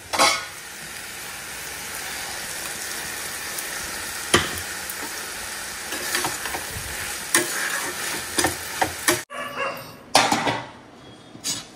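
Leftover hilsa fish reheats in a pan with a continuous low sizzle, broken by scattered clinks and scrapes of a utensil and a sudden louder burst and clatter toward the end.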